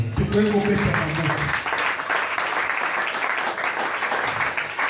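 A church congregation applauds during a Sunday service, broad steady clapping and cheering filling the room for several seconds after a brief spoken call.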